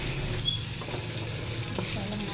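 Garlic and sliced onion sauté in a pan, giving a steady moderate sizzle with faint stirring scrapes throughout, no speech over it.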